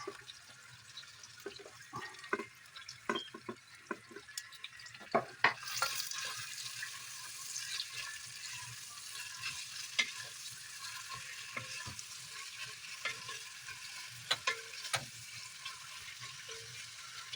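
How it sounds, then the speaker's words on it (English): Cut onions fry with curry masala in a pan, giving a steady crackling sizzle. Irregular scrape and clack sounds of stirring come and go over it, and the sizzle gets louder partway through. "we are all good to add the cut onions."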